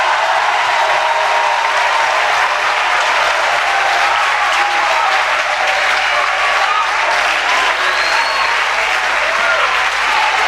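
A church congregation applauds and cheers during a worship service, a dense, steady roar of clapping and crowd noise that fills the whole stretch at high volume.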